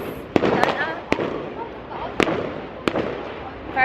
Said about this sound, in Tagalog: May fireworks, guys.